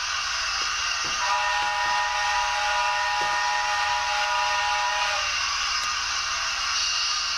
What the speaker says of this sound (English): let's put her in reverse. Let's do a whistle.